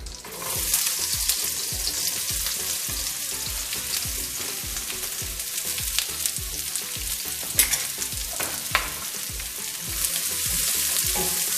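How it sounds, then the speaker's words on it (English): Chopped onions sautéing in butter and oil, a steady bright sizzle with regular scraping stirs in a pan, close and continuous. "just to saute it a little bit"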